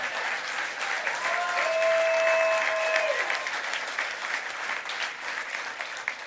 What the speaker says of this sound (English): Please also give a round of applause to the diamonds of my heart